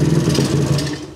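Short, close burst of a small motorbike engine being revved as the throttle opens, a loud buzzing drone that eases off at the end.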